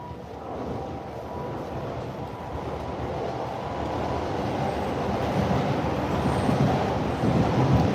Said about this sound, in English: See the train in the window there.